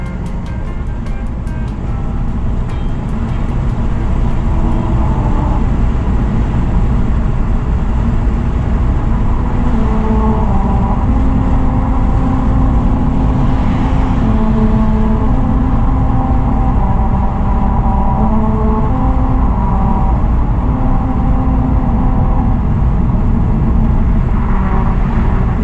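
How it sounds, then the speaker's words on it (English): Car tires roll over the grooved Route 66 musical highway in Albuquerque, and a loud steady road roar carries a droning melody of shifting hummed pitches that runs on without a break. "as you're driving along, the road will play you a tune"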